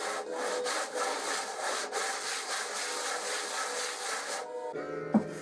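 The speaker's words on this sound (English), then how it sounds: "flattened the bottom of the fretboard on some 40 grit sandpaper" Salvaged oak guitar fretboard rubbed back and forth on coarse 40 grit sandpaper, a continuous rasping scrape with regular strokes, close and loud, ending with a brief knock.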